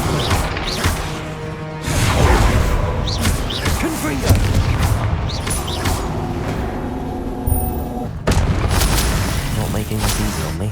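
Confringo fire spells bursting in combat in Hogwarts Legacy, several booming blasts and crashes over a busy game soundscape with music, while a voice calls out spell names.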